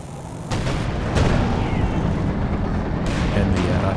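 Artillery fire in the strategy game Company of Heroes 2, heavy booming blasts and rumbling impacts, a few distinct loud thuds over continuous battle noise with a voice speaking over it.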